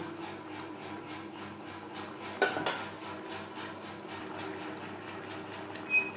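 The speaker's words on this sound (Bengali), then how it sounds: "গ্রেভির সাথে মাছ বেশ ভালো করে মিক্সড করে দেবো" Fish gets mixed into gravy in a pan for Bengali macher jhal fish curry: quiet background hiss with a few sharp metallic clinks of a utensil against the pan, one brief cluster in the middle and another near the end.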